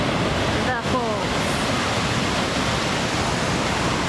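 A waterfall roars as a steady, dense wash of noise, loud and close, continuing without a break; a brief voice-like sound comes through near the start.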